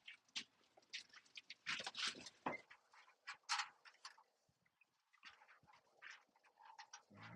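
Pet birds kept in a loft, giving a busy series of short quacking, chirping calls in uneven bursts, fairly close but faint, over a low steady hum with no talk.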